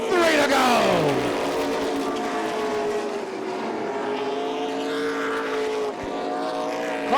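Stock cars race in the 2003 Oxford 250 on an asphalt oval, loud engines roaring close by with pitch sweeping as cars pass, a continuous pack drone under the commentary.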